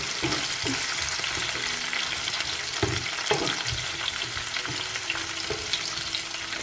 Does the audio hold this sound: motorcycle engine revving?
no